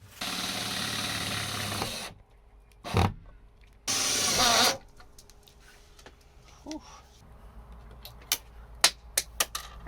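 Screws clatter onto the floor during a Crafter van conversion build, a cluster of sharp, scattered metallic ticks near the end, following louder bursts of tool noise and handling.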